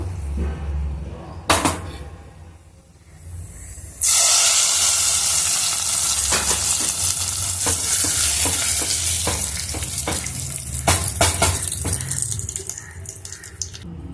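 Fried tempering is poured into cabbage dal, bursting into a loud, hissing sizzle after a few quiet seconds and a couple of clanks. The sizzle carries on with crackles and stirring scrapes and no voices.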